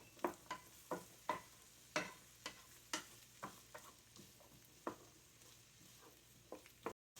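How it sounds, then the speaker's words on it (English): Vegetables sauté softly in a pan as a utensil stirs them at a steady pace, producing a series of gentle scrapes and taps over a faint sizzle, quiet and close with no speech. "You want to saute this a little bit."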